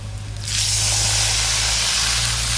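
Water poured into a hot pan of potatoes with cumin-chili paste and salt bursts into a loud, broad hiss that starts abruptly and holds steady, with a low hum in the background.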